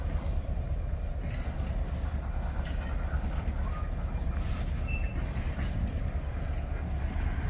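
GBRf class 66 diesel locomotive 66724 'Drax Power Station' hauling a train out of a station, a steady loud rumble with passing wheel and rail noise and faint high squeals throughout.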